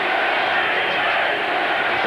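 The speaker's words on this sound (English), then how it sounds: "The crowd into it right from the start." A dense, steady roar from a stadium crowd at a 1996 World League of American Football game, London Monarchs hosting the Amsterdam Admirals, continuous and loud throughout.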